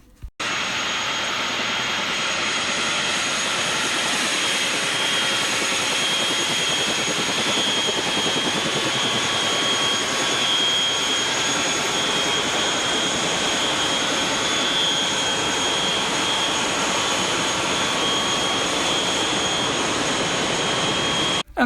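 A steady, loud roar of a helicopter flying from New York City to JFK Airport drones continuously throughout, with a faint high whine riding above the broadband rumble.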